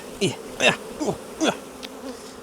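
Honeybees buzzing around a hive box during a hive inspection, several distinct buzzy passes rising and falling in quick succession, close by, with no talking.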